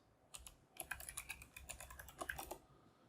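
Keys clatter on a computer keyboard during login at a PC, a quick quiet burst of rapid taps with a short pause early on, then a steady run of clicks before stopping.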